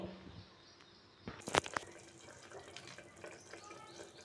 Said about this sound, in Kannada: ಒಂದು ಅರ್ಧ ಗ್ಲಾಸ್ ಅಷ್ಟು ಮಾತ್ರ ನಾನು ನೀರನ್ನು ಸೇರಿಸ್ಕೊಳ್ತಾ ಇದ್ದೀನಿ